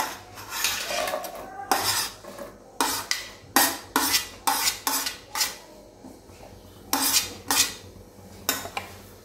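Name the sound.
onion being sautéed and stirred in a kadhai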